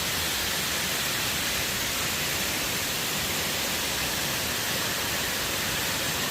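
Klong Lan waterfall in Kamphaeng Phet, Thailand, gives off a dense, steady broadband roar of rushing water, loud and unbroken throughout with no voices.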